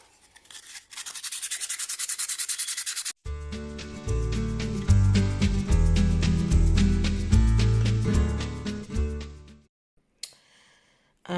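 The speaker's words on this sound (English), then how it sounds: "I guess the next stage now would just be to do the sanding" A concrete planter from a kit is sanded by hand, giving a rhythmic rasping scrape for about three seconds before music takes over and fills the rest.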